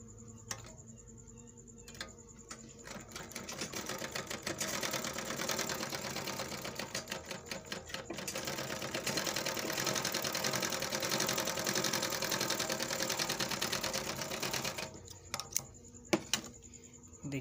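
An overlock sewing machine stitches cloth in a loud, rapid mechanical chatter that starts after a few clicks, runs continuously for about ten seconds, then stops, leaving scattered handling clicks.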